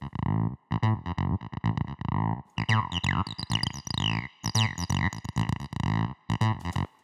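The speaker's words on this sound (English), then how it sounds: "So I've got this acid riff, which is a sample" A chopped, squelchy acid synth riff with distorted, resonant stabs and sweeping filter chirps, played in choppy rhythmic bursts with short gaps.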